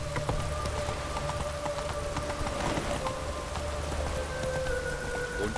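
Rain falls in The Witcher 3: Wild Hunt as a steady hiss with scattered drops, mixed with faint clopping hooves and sustained tones of background music.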